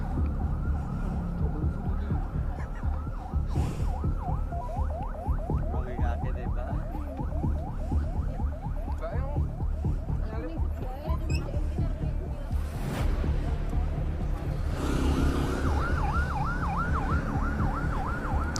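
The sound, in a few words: ambulance siren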